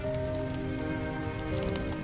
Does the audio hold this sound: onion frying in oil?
no